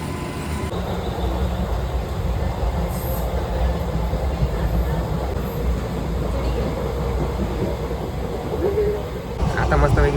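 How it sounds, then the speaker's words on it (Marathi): A Mumbai local train passing close by, heard from a moving long-distance train: a steady, heavy rumble of wheels and rails lasting about ten seconds, with a brief louder clatter near the end. "हे बघा मुंबईची शान लोकल ट्रेन"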